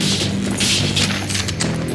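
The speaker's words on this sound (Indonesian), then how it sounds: "Ledakan." An explosion in Sniper Elite 4: a loud burst of crashing, booming noise with scattered debris-like impacts, dense and sustained for a couple of seconds.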